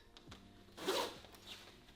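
Zipper on a gilet pulled once in a quick, close rasp lasting about half a second, with faint fabric rustle before and after and no talking.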